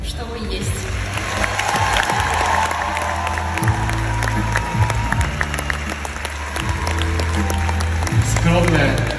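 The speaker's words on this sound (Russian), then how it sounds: "за бурные аплодисменты" Audience applause in an arena after a musical ice show performance featuring figure skater Kamila Valieva, sustained crowd clapping and cheering throughout, with music and voices mixed in underneath.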